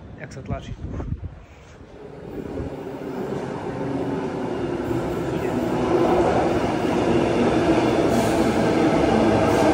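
Interior of a passenger train in Australia rolling along, a steady low rumble and rattle of wheels that builds and stays loud, after a brief stretch of talk at the start.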